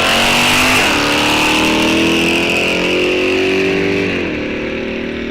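Two drag cars, a Ford Mustang and a Chevrolet Vega, launch hard at a Wisconsin drag strip, engines roaring loud and close with rising revs and gear-change dips before fading slightly.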